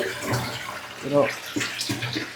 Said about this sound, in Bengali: পাতিলটা তো দীর্ঘদিন রাখা এজন্য একটু ভালো করে ধুয়ে নিচ্ছে